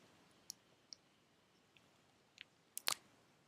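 A computer mouse clicks several times, sharp and faint, spaced irregularly with a quick double click near the end over a quiet room hiss.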